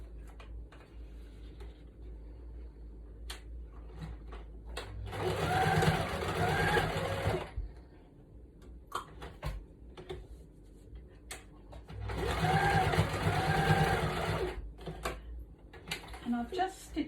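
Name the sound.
sewing machine stitching a lace motif onto a journal tag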